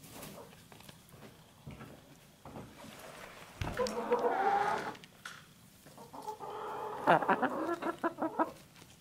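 Chickens peck and cluck softly while eating compost, with short bursts of clucking and scratching sounds rising in the middle and near the end over a quiet background.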